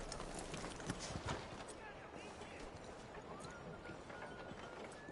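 Clip-clopping horse hooves from Red Dead Redemption 2, with scattered sharp bangs, set against a noisy game soundscape with voices in the mix.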